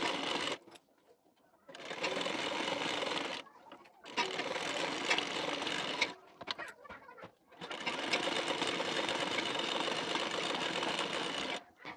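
Sewing machine stitching a blouse seam in three long runs of rapid even whirring, separated by short pauses with faint handling noise.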